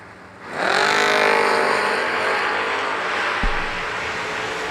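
Drag race launch of a Pontiac T1000 and a Mustang on a racetrack at a million-dollar race event: engines roar up suddenly and hold a loud, sustained wide-open blare, with a sharp thump near the end.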